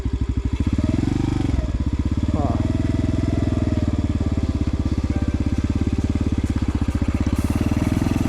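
An X-Pro Storm 150 DLX dual sport motorcycle climbing an incline as the clutch is let out, its single-cylinder engine thumping in a steady, loud, close rhythm with a brief rev change and voices over it.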